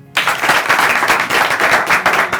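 Studio audience applause on a talk show, a sudden burst of brisk clapping from many hands that stays loud and even to the end.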